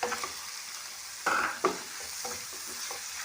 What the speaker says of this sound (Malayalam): നന്നായിട്ട് ഇളക്കി കൊടുക്കാം. എണ്ണയ്ക്കകത്ത് കിടന്ന് നന്നായിട്ട് മൂക്കണം.